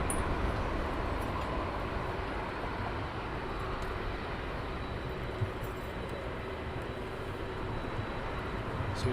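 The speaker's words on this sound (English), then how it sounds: "So we have the Delta's now taxied on." Steady broadband rumble of a Delta airliner taxiing at London Heathrow Airport, a continuous distant engine drone holding at an even level throughout with no talking.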